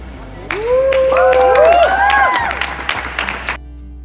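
An audience claps and cheers for a 13-year-old girl racer, with whooping, rising voices over steady applause that swells, holds for about three seconds and then fades.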